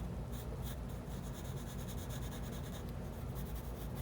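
Pencil shading on paper, a soft continuous scratchy rubbing with quick back-and-forth strokes, steady and close, low in level, with no voices.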